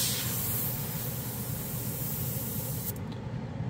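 Badger 360 airbrush spraying paint in siphon feed mode: a continuous loud, broad hiss of air lasting nearly four seconds, close up, then cutting off abruptly near the end.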